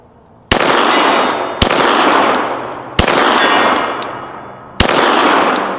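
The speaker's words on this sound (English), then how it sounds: "Now I'm going to try the gong." A Glock 17L fires four loud shots at a steel gong target, each crack blending into a sustained metallic ring that fades slowly before the next shot, irregularly spaced over several seconds, no voices.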